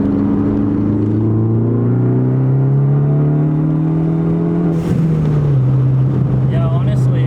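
A Ford Focus ST with a pops-and-bangs tune pulls hard in third gear, its engine drone climbing steadily before a shift, then a crackle of exhaust pops near the end; the cabin sound is loud and close, and voices talk over it.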